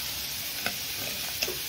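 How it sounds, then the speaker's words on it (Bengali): Paneer frying in hot oil in a pan, a continuous close sizzle with two brief soft clicks or stirring taps against the pan. "দেখুন ভালো করে ভেজে নিয়েছি।"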